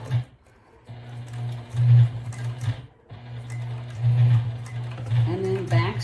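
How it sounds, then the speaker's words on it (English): A sewing machine stitching through thick black webbing for a bag strap runs in steady bursts with a low motor hum. It pauses briefly between runs, and a voice talks over it. "Okay, so now I'm going to start to stitch."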